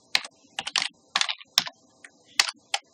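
Typing on a computer keyboard while renaming a module in SolidWorks, a series of close, crisp key clicks in uneven small bursts with short gaps between them.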